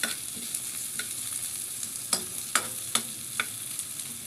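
Pork fat sizzling loudly in a frying pan for tinola while a spatula stirs it, with a bright continuous hiss broken by a few sharp scraping strokes, close and clear, with no talking.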